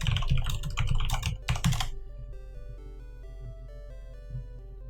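Fast typing on a computer keyboard, with rapid clustered key clicks for about two seconds before stopping, after which a soft steady tonal background carries on alone.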